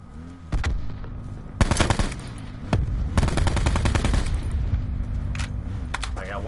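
Rapid automatic gunfire from a weapon in the video game Call of Duty Blackout, with loud bursts of repeated shots separated by short pauses over a steady game background.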